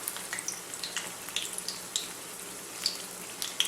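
Eggplant slices frying in hot olive oil give a steady soft sizzle with scattered sharp crackles and pops throughout, fairly quiet and with no voices.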